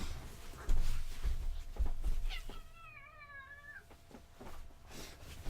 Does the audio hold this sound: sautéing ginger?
no